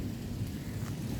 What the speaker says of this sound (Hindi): तेज तूफानी बरसती हुई बारिश के बीच में आया हूं मैं